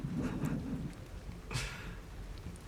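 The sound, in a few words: rain and thunder soundtrack in a Roll20 tabletop game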